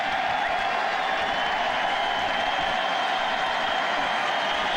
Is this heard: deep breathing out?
no